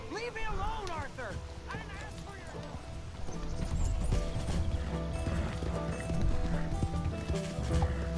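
Horse hooves gallop in the Red Dead Redemption 2 video game, a steady rhythmic clip-clop with a whinny and creaking tack near the start, joined by game voices and growing louder partway through.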